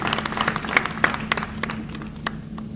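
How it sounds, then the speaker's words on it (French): Brief applause from an audience at a formal gathering, a scattering of claps rising and thinning over a few seconds above a steady room hum. "le président Lamine Kapi Camara, que je vous demande d'applaudir."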